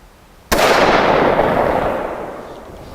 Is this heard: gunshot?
yes